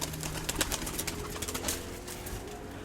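Pigeons coo on their first outing from the loft, soft low repeated calls mixed with light rustling and flutter nearby, a steady outdoor murmur with no talk.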